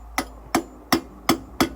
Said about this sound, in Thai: แบ่งให้เป็นสองซี่ครับผม โดยใช้การเอา สกัด แล้วก็ตอกตอกลงไปนะครับ